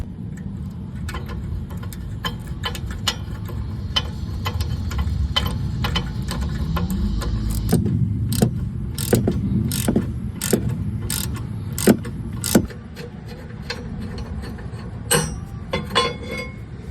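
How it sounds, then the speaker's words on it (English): A socket wrench with an 18mm socket removes the caliper bracket on a Mercedes-Benz, giving rapid, close ratcheting clicks in repeated bursts with a few sharper metallic snaps. "we're going to remove the caliper bracket with the size 18mm socket"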